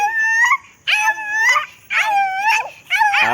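A voice imitates a dog, giving four drawn-out, whining bark-and-howl calls in a row, close and loud, each one rising then falling in pitch.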